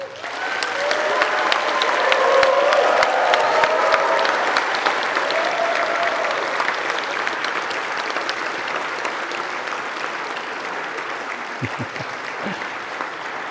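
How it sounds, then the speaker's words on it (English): Graduation ceremony audience applauding in a large hall, a loud sustained wash of clapping from many people that swells early and slowly tapers off. "Give them a huge round of applause."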